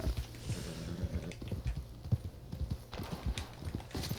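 Horse galloping in a multiplayer shooter game, rapid rhythmic hoofbeats pounding steadily and close with brief snorting, no talk over it.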